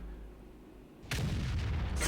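A BL-10 tank gun fires in the World of Tanks video game: a sudden loud, close blast cuts in after a quiet stretch and rolls into a heavy sustained rumble, with another burst swelling near the end.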